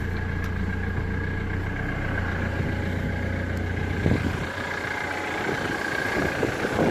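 A Ford Mondeo ST engine idles steadily at close range, a low even hum with a brief rise and shuffle of handling noise partway through, no talking.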